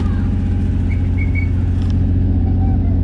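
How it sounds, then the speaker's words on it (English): A Nissan 350Z's engine idles and is held at a steady drone, its low rumble dense and continuous throughout, with faint whistling tones above; the car is in limp mode, and nobody speaks over it. "Let me show you guys what it looks like when I rev it."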